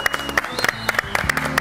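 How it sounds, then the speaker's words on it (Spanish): A live audience applauds to welcome the guest Sergio Marchi on the Argentine TV show Hoy Nos Toca a las Diez, with sparse, separate claps rising over a murmuring crowd in a brief, moderately loud burst. "que recibamos con un gran aplauso a Sergio Marchi"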